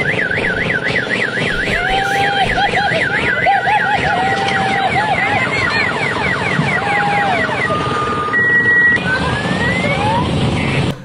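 A loud wailing siren like the pre-dawn imsak siren, warbling continuously with rising and falling sweeps and a brief steady tone, close and dominant, mixed with other emergency-style tones and traffic noise.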